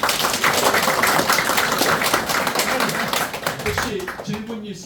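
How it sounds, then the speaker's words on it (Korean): Audience applause in a lecture hall at the close of a professor's talk at an academic conference, a dense steady patter of many hands that gradually thins toward the end, with some talk mixed in. "다시 한번 큰 박수"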